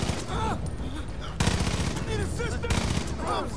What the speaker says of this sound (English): how come you're missing with a shotgun at point blank?